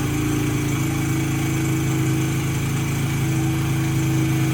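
An XR70 motorcycle fitted with a BBR 88cc big bore kit idles steadily just after kick-starting, a close, even engine drone that holds without a break.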